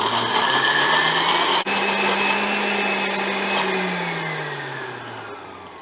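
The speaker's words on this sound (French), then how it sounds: "un lait d'amande aujourd'hui, et on mixe. Donc, hop. On met directement au max" A blender whirs at full speed mixing almond milk for a green smoothie bowl, a loud steady motor drone that holds constant for several seconds before slowly winding down.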